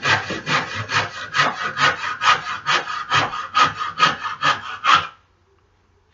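A handmade wooden chess king piece is sanded with about fourteen brisk, rhythmic back-and-forth rasping strokes, loud and close, ending abruptly in quiet.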